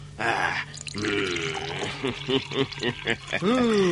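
Liquor poured into a cup in an Indonesian radio drama scene, a gurgling, dripping pour heard close up and partly under voices.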